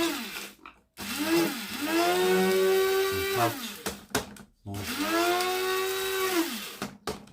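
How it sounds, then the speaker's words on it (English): An electric grinder grinds base tobacco leaves into snuff, its motor whirring up to a steady high whine, dropping off, then spinning up again for a second run, close and fairly loud. "as you can see, the tobacco is immediately being grinded"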